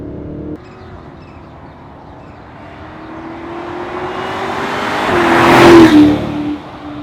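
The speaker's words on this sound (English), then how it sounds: "very growly, very nice engine." The 4.4L V8 of a BMW X7 50i M Sport revs up with a rising growl that swells to a loud peak near the end before dropping off, heard alone without talk.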